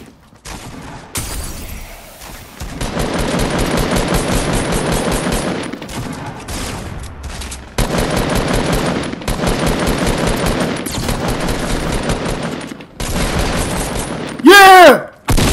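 Sustained automatic gunfire in Fortnite Season 6, loud rapid bursts running for several seconds with short breaks between them, ending in a sharp blast followed by a rising electronic whine.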